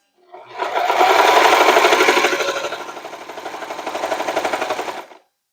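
A serger runs in one continuous burst of rapid, buzzing stitching along the edge of a fabric zippered pouch. It is close and loud, slows slightly midway, then picks up again before stopping abruptly.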